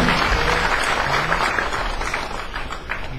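Audience applause in a lecture hall, a steady dense patter of many hands at moderate loudness that fades slightly toward the end.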